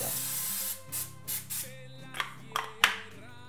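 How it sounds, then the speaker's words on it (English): Pam cooking spray hisses from a can in several short bursts, a few spaced spritzes followed by sharper clicks and a final burst. "You don't have to, but I like to spray it one more time with the Pam."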